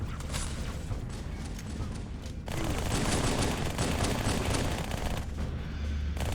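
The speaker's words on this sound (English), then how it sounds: "I can use a rapid fire gun to try and drain shields and aim for headshots with the pistol at the same time" A rapid-fire gun rattles in bursts during Halo 2 gameplay. The sustained gunfire is fairly loud and grows denser and heavier partway through, with mechanical clatter underneath.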